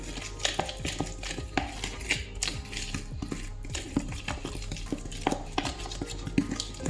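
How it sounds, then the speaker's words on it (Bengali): Tandoori chicken marinade being stirred and mixed in a bowl: repeated scraping and clinking strokes of a utensil against the container, close and fairly quiet, in an irregular rhythm with no talking. "এবার এইটাকে আবার মিক্স করে নেব।"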